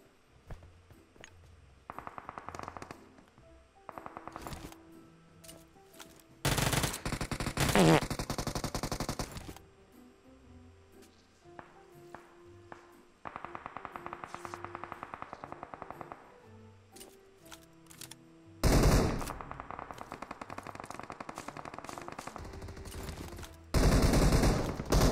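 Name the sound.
gunfire in a video game, PUBG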